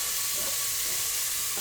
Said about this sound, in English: So I'm going to add the onion first, and then the beef.